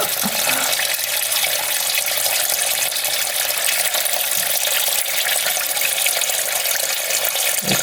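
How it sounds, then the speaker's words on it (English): Gasoline gushes and pours steadily without a break out of the engine of a 1967 Volkswagen dune buggy, a loud continuous splashing flow close by. "you can see the gas pouring out of it."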